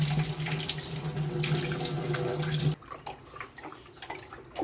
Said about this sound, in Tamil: வாஷ் பேஷனில் தண்ணி திறந்து விட்டுட்டு இதை வந்து அப்படியே நனைச்சிடுவேன் ஃபுல்லாகவே.